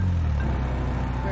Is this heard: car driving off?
yes